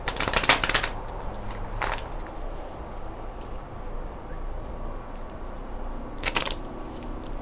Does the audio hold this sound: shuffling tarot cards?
yes